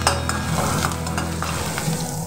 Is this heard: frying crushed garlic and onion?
yes